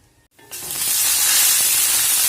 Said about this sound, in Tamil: கடுகு, உளுத்தம்பருப்பு, கடலைப்பருப்பு போட்டுக்கலாம்